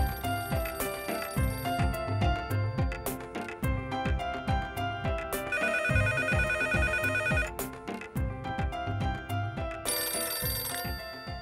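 A telephone bell rings in repeated loud bursts inside a home, with busy musical accompaniment layered over the rings and no talk during the ringing.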